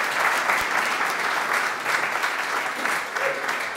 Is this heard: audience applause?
yes